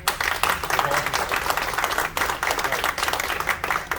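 Audience applause at the grand opening of Poe's Magic Theatre in Baltimore, a steady crowd-wide clapping that fills the room for several seconds with brief dips and swells.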